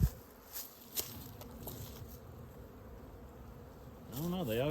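Honeybees buzz at winter hive entrances during a hive check, a soft close hum with a few brief knocks and rustles, and a voice joins near the end.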